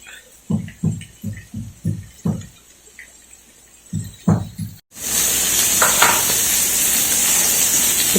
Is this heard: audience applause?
no